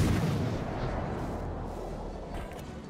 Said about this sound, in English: So we'll take some shots at this Maya.